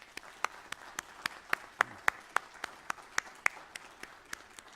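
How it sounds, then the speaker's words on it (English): Applause for mayoral debate candidates, though only a single nearby pair of hands is heard, clapping in an even rhythm of sharp, regular claps over a quiet room, about three per second. "I'd like to give the three candidates a round of applause."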